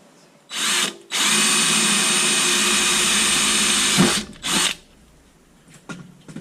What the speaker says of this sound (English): and then we'll drill it.